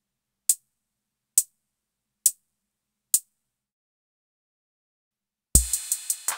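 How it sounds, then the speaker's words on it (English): Four short, crisp closed hi-hat ticks from a Behringer RD-6 drum machine, evenly spaced and isolated, followed by a burst of a fuller pattern with a kick and rapid hits at the end. "And the closed hi-hat."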